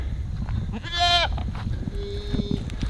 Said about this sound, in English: heading out where I got some of my sheep and goats right now